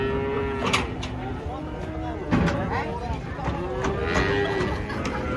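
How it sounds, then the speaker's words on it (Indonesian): Young calves moo repeatedly while being unloaded from a truck, the bawling close and loud over a steady background of farm noise, with people's voices mixed in. "Nah ini sapi pedet-pedet turun nih ya."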